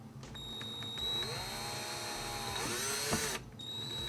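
Power drill driving screws to mount a front lip on a 2014-2018 Subaru Forester XT: a steady whine rising and settling in pitch, then stopping with a short clunk near the end, quiet and alone.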